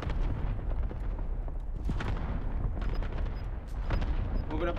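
Gunfire in the video game Warzone crackles in bursts over a dense, booming battle mix, with repeated shots and rumbling impacts near and far throughout.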